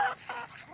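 Game-farm chickens cluck at feeding time, giving a few short, soft clucks close by in quick succession.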